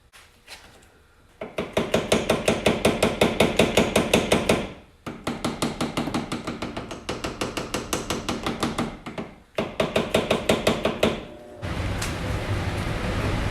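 Repeated hammer tapping on a Mercedes C36 AMG engine cover with an integrated sprayer, struck during disassembly: rapid metallic blows in bursts separated by short pauses, loud and close, ending in a steadier clatter.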